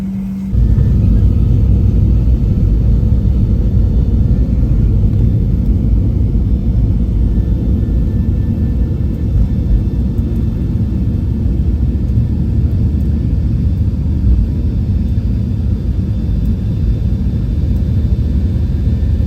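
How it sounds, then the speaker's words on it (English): A loud, steady low roar of an airplane cabin in flight, constant engine rumble and broadband noise with no talking. "I am going to probably show you some lovely footage of the plane flight."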